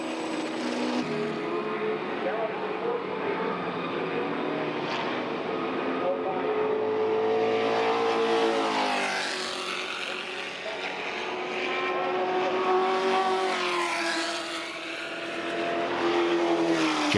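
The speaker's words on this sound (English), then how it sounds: "Time to see and listen to the GT40s in action in the double-driver endurance race." Ford GT40 race cars in a double-driver endurance race roar past, engines rising and falling in long sustained sweeps as they pass near and fade, with a commentator speaking over the din.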